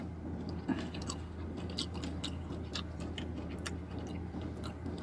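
Someone chews fast food fries up close, with soft, quick crunches and wet mouth sounds repeating in an uneven rhythm and no speech.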